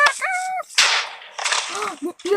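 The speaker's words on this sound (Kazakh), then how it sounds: "Бомба!" A bomb goes off in a video game as a sharp, loud burst that decays with a noisy tail, between excited children's voices talking over game chat.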